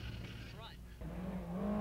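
A rally car pulls away onto a transit section, its engine note rising through a brief rev before settling into a low drone, while a voice talks over it.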